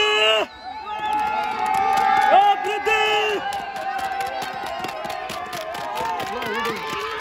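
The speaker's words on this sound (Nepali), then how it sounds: "हुटिङ हेर्नुहोस् साथीहरू हुटिङ" A crowd hoots, shouts and cheers loudly and continuously at a national women's football tournament final, the mass of voices close and excited, with individual yells rising over the roar.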